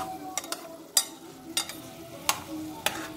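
Ham being stirred as it fries in a pot, several sharp scraping strokes of a utensil spaced at irregular intervals over a soft, steady sizzle.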